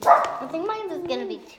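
A pet dog barks and yips in short bursts close by, mixed with a person talking over it.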